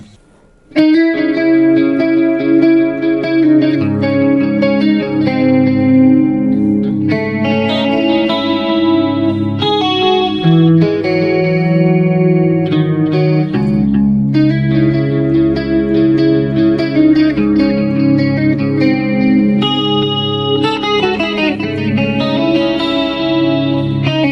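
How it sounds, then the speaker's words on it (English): Electric guitar chords and arpeggios play continuously through a BOSS eBand JS-10 with an 80s-style shimmering, wavering chorus effect, loud and up close, with no talking. "let's go ahead and check it out with just the chorus only."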